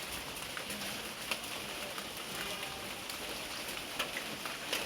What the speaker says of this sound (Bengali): দেখেন এরকম বৃষ্টি হইতেছে।